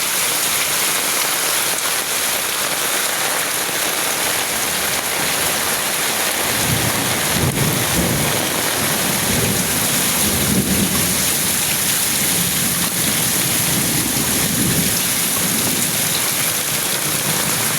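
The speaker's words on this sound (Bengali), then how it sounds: "বজ্রপাত, যেভাবে বজ্রপাত মেঘ ঝিলকাচ্ছে" Heavy rain pours steadily over Dhaka streets, a dense continuous hiss with low rumbling thunder rolling in from about seven seconds onward, loud and close throughout with no voices.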